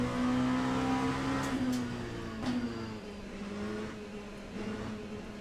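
Race car engine in the Le Mans Ultimate racing game, a steady high-pitched drone that holds, dips and shifts with gear changes over a few seconds, fairly quiet, with no talking.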